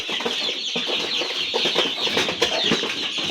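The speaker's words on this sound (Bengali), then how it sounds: "শোকের বসে কিছু ব্রয়লার মুরগ রাখছিলাম ডিম পালানোর জন্য" Broiler chickens about four and a half months old kept to lay eggs cluck and chatter continuously at close range, a dense overlapping flock sound with occasional sharper calls.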